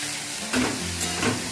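A jujube pickle with salt and turmeric is stirred in a hot pan, giving a soft continuous sizzle broken by a few brief scraping strokes, close and fairly quiet, with no voices.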